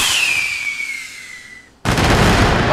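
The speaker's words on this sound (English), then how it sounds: "Light the fireworks." In the video game My Time at Sandrock, a firework whistles upward with a falling tone, goes briefly quiet, then bursts into a loud, crackling explosion that keeps rumbling to the end.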